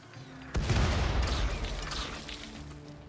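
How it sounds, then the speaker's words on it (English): Mortar fire in the video game Rimworld: a loud, sudden blast hits after a brief quiet, then a dense, rumbling barrage of booming explosions rolls on and slowly fades, with no talking. "Sure would be a shame if somebody were to open fire with mortars."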